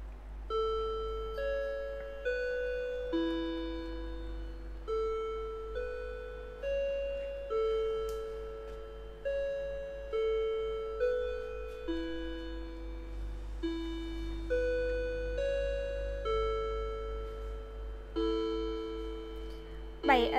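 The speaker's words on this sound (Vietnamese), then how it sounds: "5 giờ thì nó sẽ đánh 5 tiếng để báo hiệu là hiện tại là 5 giờ" A Citizen wall clock, a Japanese domestic model with a mother-and-child figure, running on a large battery, plays a clear chime melody that repeats over and over at five o'clock, close and steady with a faint hum underneath.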